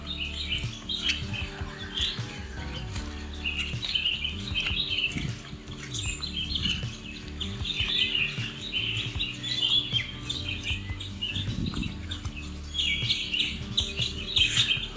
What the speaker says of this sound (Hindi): बहुत सारी बर्ड्स हैं आसपास